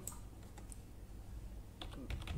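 Numbers are typed on a computer keyboard, faint scattered key clicks that bunch into a quicker burst toward the end.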